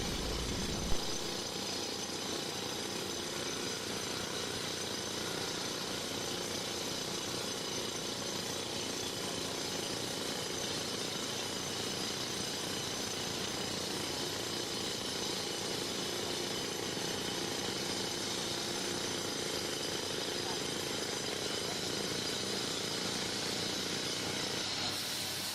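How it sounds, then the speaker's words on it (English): A crane's engine runs steadily as it lifts a heavy carved marble piece, giving a loud, continuous mechanical drone with hiss that holds for the whole stretch after a brief start. "I signaled the crane to lift the piece."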